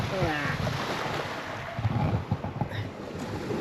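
Sea at the water's edge beside a parked van, with gusting wind buffeting the microphone and low surf washing in; someone talks intermittently over the blustery noise.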